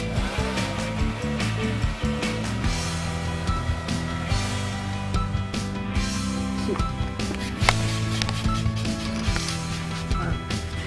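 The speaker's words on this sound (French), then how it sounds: "Deuxième étape, au sèche-cheveux." A steady, continuous whooshing drone of a hair dryer blowing, loud and close, running throughout with slight fluctuations and faint background noise.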